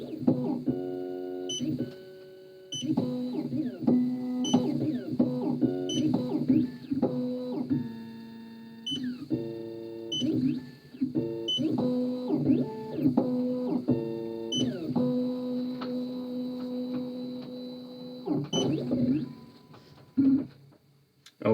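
Maverick key cutting machine running its calibration cycle, a sequence of stepping motor whines and tonal buzzes in short bursts, close and fairly quiet, with a person speaking intermittently.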